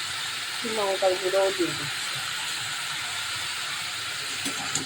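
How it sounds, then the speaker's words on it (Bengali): Vegetables fry in a pan with turmeric and chili powder, giving a steady, loud sizzling hiss throughout while someone speaks briefly over it. "এটাকে একটু ভেজে নিই সবজিটা"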